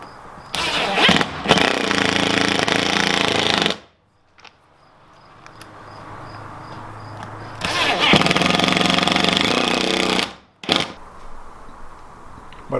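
A power driver whirs in two long bursts of a few seconds each, with brief quiet gaps between them, as screws are driven to fit windows into a teardrop camper build. The whine is loud and close.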